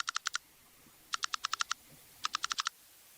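Someone types a word on a computer keyboard in three quick bursts of crisp, evenly spaced key clicks with short pauses between them. The clicks are close and clear, with no talking.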